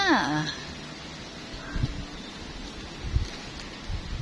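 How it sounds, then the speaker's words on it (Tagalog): Blustery typhoon wind in a garden roars steadily with rustling and gusty rumbles throughout, loud and close, with a brief voice near the start. "ang lakas ng hangin"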